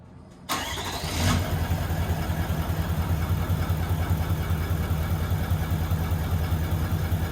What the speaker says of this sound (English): This is a cold start new system.